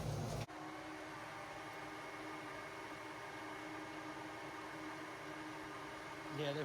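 Both radiator cooling fans on an Eclipse GSX run together as a steady, even whooshing hum that starts after a brief click and holds at constant level throughout, close and unbroken.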